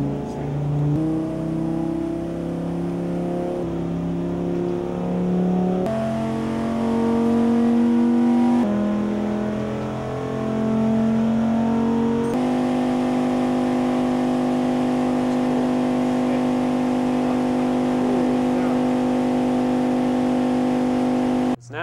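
Dodge Viper ACR-X race car with a V10 making about 640 horsepower, revving on a dyno: loud, sustained engine tones stepping up through gears, then holding a steady high drone before cutting off.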